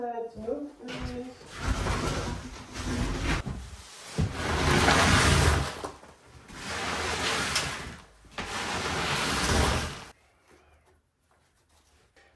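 Broom sweeping debris across the floor of an abandoned house: long, broad, rushing strokes, loud and near, that stop abruptly near the end.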